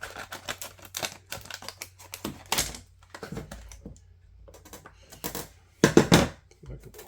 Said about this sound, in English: Cut this thing open.